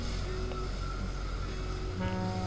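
Steady wash of calm, small sea waves at Tanjung Benoa, Bali, with a low, humming engine-like tone running beneath the continuous noise.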